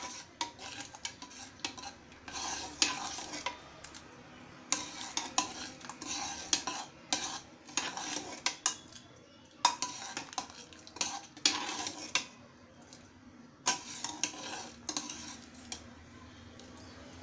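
Cooked dal and spinach being stirred in a pot, with a utensil scraping and clinking against the metal in irregular bursts, close and moderately loud with no talk.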